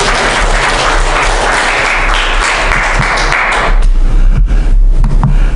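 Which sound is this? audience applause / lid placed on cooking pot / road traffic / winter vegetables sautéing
audience applause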